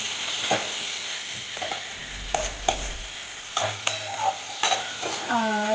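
Quinoa with ground cumin and chili powder is stirred in a pan, the spatula scraping and clinking against metal in a series of sharp strikes over a soft background sizzle, close and moderately quiet.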